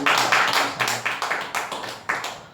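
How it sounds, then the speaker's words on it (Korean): A church congregation applauds, a burst of sharp hand claps that starts full and then thins into scattered, uneven claps, fairly close and with no talk over them. "그렇게 해주시는 하나님께 영광의 박수 올려드립니다."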